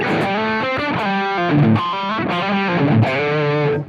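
Overdriven electric guitar with the humbucker pickup selected, playing a sustained chordal phrase through a Gearbox overdrive, thick and gritty, loud and steady with no talking.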